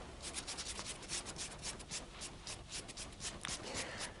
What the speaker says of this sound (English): First, you scrub it, like this.